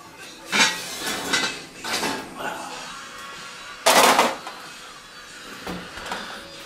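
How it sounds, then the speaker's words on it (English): A heavy cast iron pot, preheated in a 450-degree oven for no-knead bread, is handled with several sharp metallic clanks and scrapes, one louder knock near the middle, while a person talks between the sounds. "So it's a heavy cast iron pot."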